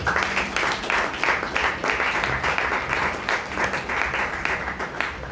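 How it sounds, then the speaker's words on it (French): Loud, sustained applause from a church congregation at a morning worship service, dense clapping filling the whole stretch with no speech over it. "Applaudissements très forts pour le Seigneur."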